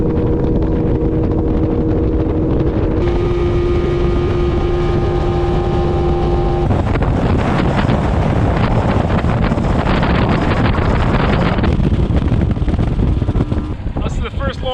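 A 1982 Glasstream boat's Chrysler 100hp outboard runs rough and loud throughout, its uneven drone buffeted by wind noise across the microphone, with the engine note shifting as the boat gets under way.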